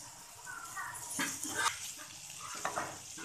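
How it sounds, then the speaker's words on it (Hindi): Chopped capsicum sautéing in a pan for a chicken fajita sandwich, giving a soft, faint sizzle with a few stirring scrapes, fairly quiet and steady throughout. "शिमला मिर्च डाल देंगे अब इसमें, इसको 2-3 मिनट के लिए जिस इसको भी सौते कर लेंगे शिमला मिर्च को"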